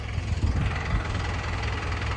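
A tractor engine runs nearby with a steady, low, throbbing idle and some knocking vibration, in a poplar field readied for wheat sowing with a rotavator.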